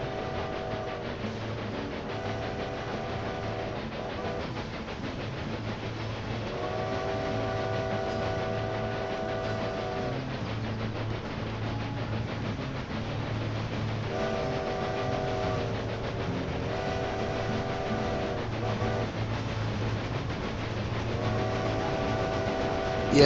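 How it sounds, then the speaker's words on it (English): Looping in-game train ride sound from Railway Empire 2, a steady rail rumble with recurring tonal swells from the train repeating every few seconds, continuous and moderately loud with no talking. "we still have the sound loop even on this train."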